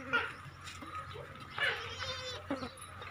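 A goat bleats a few times among breeder-quality livestock kept for Qurbani, fairly faint and spread out over a few seconds against quiet background noise.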